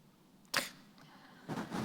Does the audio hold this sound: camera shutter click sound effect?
yes